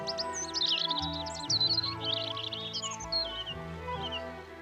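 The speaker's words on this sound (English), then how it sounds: "Everywhere the birds were very active, and such a chorus of voices from every hedge and tree" Lively chorus of small birds chirping and twittering from hedges and trees in spring countryside, bright overlapping calls under a steady low musical background.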